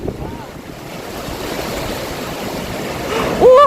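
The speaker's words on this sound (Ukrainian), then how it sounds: "Яка хвиля, хвиля велика." Atlantic Ocean surf off Ireland rushing and churning steadily with wind noise on the microphone, swelling louder near the end as a big wave breaks, with a voice briefly rising.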